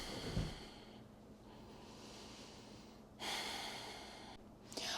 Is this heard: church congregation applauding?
no